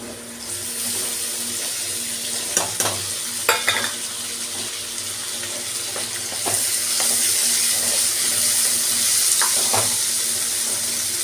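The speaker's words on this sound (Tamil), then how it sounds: "நல்லா அப்படியே பொன்னிறமாக வதக்கிடுவோம்." Ingredients for an egg curry sautéing in a pan until golden, with a continuous close sizzle broken by a few sharp clinks and stirring scrapes and no talking.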